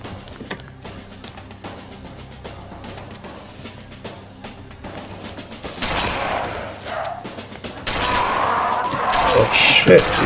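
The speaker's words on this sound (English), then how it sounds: "Shotgun." Shotgun fire in Doom, rapid sharp blasts cracking in clusters that grow denser and louder toward the end, with a voice speaking over parts of it.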